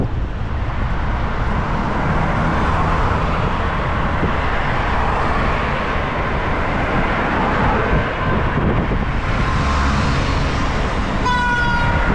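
A brief vehicle horn honk sounds near the end, cutting over loud, continuous road noise on the way to a busy market.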